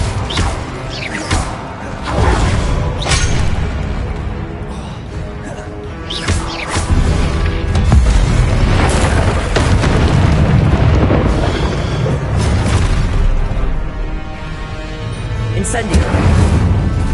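Incendio fire spells cast repeatedly in Hogwarts Legacy, a steady run of loud booming, crackling blasts with sharp bursts around 1, 3 and 6 seconds over a dense game soundscape.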